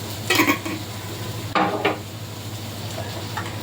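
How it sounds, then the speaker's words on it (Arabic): Rice is stirred as it fries in a pot: a few sharp scraping strokes of a spoon over a low, steady sizzle, close by. "هقعد اقلب بقى فيه كده شويه عشان يطلع مفلفل كده وحلو"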